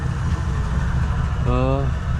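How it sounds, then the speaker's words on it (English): The V8 engine of a 1963 Chevrolet Impala with fresh ignition parts idles steadily with a loud, close, even rumble, and someone speaks briefly over it. "I'm gonna just let it sit here and idle for a little while, let it wake up some."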